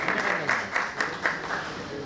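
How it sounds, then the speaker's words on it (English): Audience applause at a medical conference introducing an oncologist and a cardiologist, a steady dense clapping wash with periodic swells over about two seconds. "A huge round of applause"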